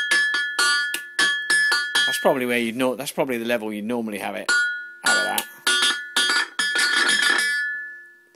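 An electric diddley bow amplified through a mobile phone transformer rings out in a run of plucked, bell-like notes with sharp attacks and short decays, while someone talks between and over them.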